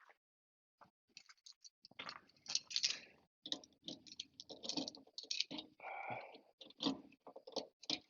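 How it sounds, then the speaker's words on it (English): Keys jingle and click against the trunk lock of a 1975 Chrysler Cordoba, a series of sharp metallic taps, scrapes and rattles in irregular bursts, close up with no talking. "Let's grab the keys and see if we can open up the trunk on it."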